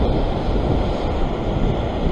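Ocean surf breaks along a shoreline near Sydney, Australia, where someone is fishing, producing a loud, continuous wash of rushing water mixed with blustery wind buffeting the microphone.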